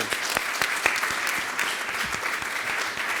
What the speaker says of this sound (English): how about a round of applause for this panel?